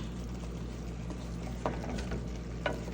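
Chicken frying in a pan for kinamatisang manok is stirred, giving a quiet steady sizzle with a few soft scraping knocks from the utensil.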